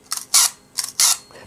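A small, heavy Robot analog film camera, far from quiet, runs through two shutter cycles. Each is a short crisp click followed by a louder mechanical whirr of the spring-driven film advance, close and clear with no talk.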